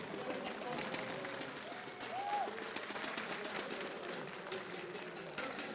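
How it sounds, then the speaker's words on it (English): Steady applause from a large arena crowd at the ESL One Katowice 2015 esports semifinal, a dense continuous patter of clapping heard from a distance at moderate volume. "Round of applause, everybody, for Team EnVyUs."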